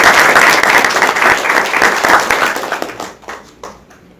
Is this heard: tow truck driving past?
no